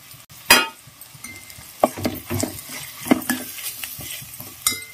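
Chili, masala and turmeric powders being stirred into a mutton curry base of onion and tomato in a pan, with scraping spoon strokes, light clinks and a faint sizzle, close and fairly busy.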